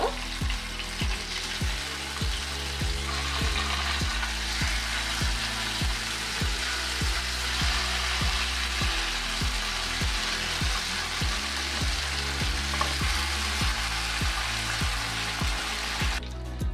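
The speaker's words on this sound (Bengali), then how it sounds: "আমি খুব সুন্দর করে একটু ফ্রাই করে নেব" Tandoori chicken pieces fry in a pan on a gas stove with a continuous, even sizzle and spatter, and faint regular taps and stirring underneath.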